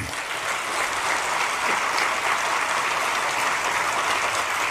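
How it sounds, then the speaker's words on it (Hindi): A large crowd at a political rally in Chinchwad claps steadily and loudly, a dense continuous wash of applause with no break and no talk over it. "जोर से ताली बजाना"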